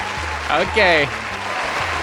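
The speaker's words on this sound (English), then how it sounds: "Okay guys, that's enough applause." Steady applause fills the background while a voice rises briefly over it.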